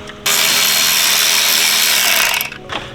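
A Milwaukee power tool whirs in a long burst of about two seconds while a cold air intake is installed on a Nissan 350Z, a loud close mechanical buzz that starts abruptly and then trails off with a brief ratchety tail.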